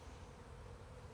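Honey bees buzz around hives while nucs are installed, a steady, low, dense hum that holds evenly through the short stretch with no voices.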